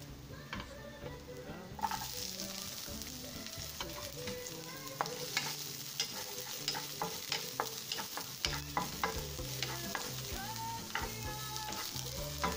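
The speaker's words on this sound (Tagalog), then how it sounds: "Gisa-gisa lang natin ang bahagya." Onion sautéed with garlic in a hot pan for pancit guisado gives a steady close sizzle, broken by frequent scraping and clacking of a utensil stirring against the pan.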